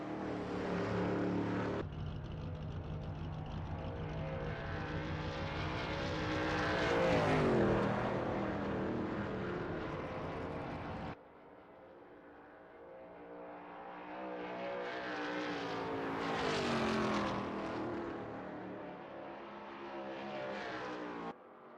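A Shelby Cobra 351 race car laps Bridgehampton in a racing game, its loud engine snarling and climbing through revs, shifting, then surging again on a second run.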